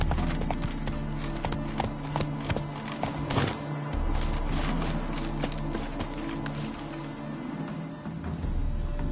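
Geralt's horse Roach trots in the Witcher 3 video game, a steady, close clip-clop of hooves with a brief swell of other game sounds midway.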